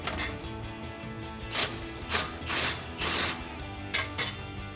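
Ratchet clicks as a 16mm socket turns a bolt on a Jeep Gladiator JT front bumper, several short bursts of close, crisp clicking with brief pauses between strokes and no talk.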